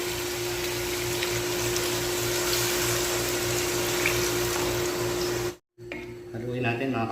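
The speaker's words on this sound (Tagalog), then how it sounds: "At sasabawan natin mga ka-recipe ng isang basong tubig." Water from a glass poured into a pan of Kerala-style chicken curry, a steady loud splashing rush with a constant hum underneath, ending abruptly before a voice speaks.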